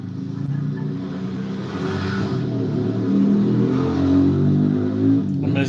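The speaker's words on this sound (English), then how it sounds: "Motorcycle with no mufflers." A motorcycle with no mufflers revs nearby, its engine rumbling loud and raw with rising surges, while someone talks over it.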